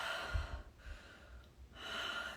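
Breathing during a relaxation exercise: a quick, audible inhale at the start, then a long, soft exhale and another breath, close and quiet over a faint hiss.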